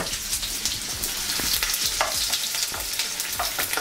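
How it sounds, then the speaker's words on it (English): Onions fry in hot vegetable oil in a wok, sizzling loudly and steadily while being stirred, with scraping knocks repeating throughout. "I'm going to fry the onions."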